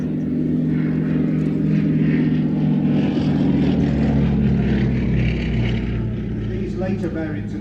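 Vintage propeller aircraft powered by a Bristol Mercury radial engine flying past at an air show, a steady loud drone running throughout under continuous talk.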